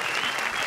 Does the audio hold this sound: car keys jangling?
no